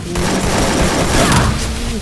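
A grenade explosion and gunfire ring out in the Free Fire battle-royale video game, a loud, dense burst of shots and booms that continues for about two seconds.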